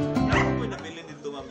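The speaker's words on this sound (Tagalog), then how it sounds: "a pag-uwi mula Kuwait, nina Donabel at Jeff, may kasama silang 12 aso." Rescued dogs brought home from Kuwait yip, whimper and bark in quick, high-pitched bursts, several overlapping close to the listener.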